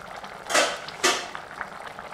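A pot of ash gourd sambar cooks on the stove, with low steady bubbling and two louder splashing surges close together, and no voices.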